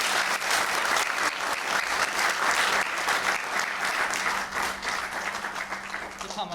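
Theatre audience applauding after a memorial play at a drama theatre, a dense, sustained crowd clapping that stays full and even before easing slightly toward the end.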